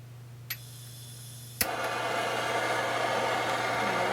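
A sharp click, then a Big Shot propane torch ignites into a steady, loud hissing roar that continues without a break.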